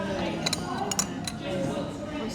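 Plates and cutlery are set down on a tea room table, giving several light metallic clinks and chinks spaced irregularly over a soft indoor background murmur.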